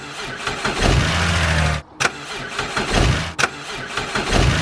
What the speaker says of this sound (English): when I start the engine, which I will now insert a clip of me doing so